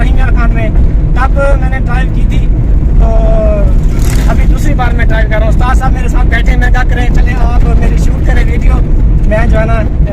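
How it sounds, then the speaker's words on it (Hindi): A car engine hums steadily while being driven on a road in Pakistan, a low continuous drone beneath someone speaking throughout, with faint traffic noise around. "मैं अभी ड्राइव कर रहा हूँ गाड़ी"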